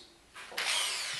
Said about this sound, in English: we're going to just drill those out